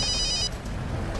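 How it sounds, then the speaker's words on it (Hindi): A telephone rings for about half a second in a bright, electronic trill over a low background hum, then cuts off. "दया सर का फोन"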